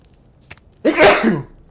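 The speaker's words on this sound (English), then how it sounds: "I am very audacious and I have to sneeze." One loud, close sneeze bursts out after a brief sharp intake of breath, lasting about half a second, followed by quiet.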